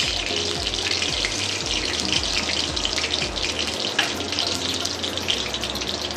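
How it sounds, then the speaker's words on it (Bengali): Curry leaves and whole spices sputter in hot oil for tempering, a dense, steady hiss with rapid crackles running continuously and close up. "ফোড়নগুলো একটু ফেটে উঠুক"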